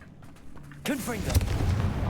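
A Confringo blast spell from Hogwarts Legacy erupts as a sudden loud boom about halfway through, followed by a whooshing, crackling burst and a ringing tail after a quieter lead-in.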